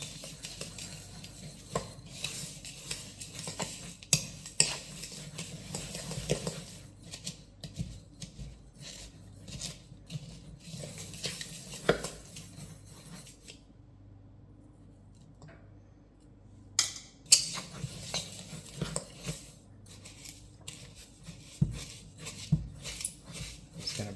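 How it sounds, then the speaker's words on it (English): Brown sugar clumps broken up with a metal utensil in a home kitchen, giving irregular light scraping, tapping and clinking strokes that come in bursts with short pauses, close and fairly quiet. "Going to break out these clumps of brown sugar."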